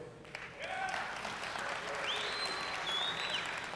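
Applause from a keynote audience at PDC 2001, polled with clapping on a programming question: sustained clapping that rises quickly and holds steady, with a few voices in the crowd.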